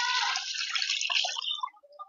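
Thin coconut milk, the third extract, is poured into a heated bronze uruli pot, a short close splash and trickle that thins and breaks into drips near the end.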